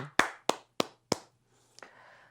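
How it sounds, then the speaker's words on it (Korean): A church congregation at a Sunday worship service claps in praise, four loud, evenly spaced claps close by, then a softer trailing clap and faint rustle in an otherwise quiet sanctuary. "오늘도 우리의 찬양을 받으신 하나님께 우리 다시 한번 영광의 박수 올려드립시다."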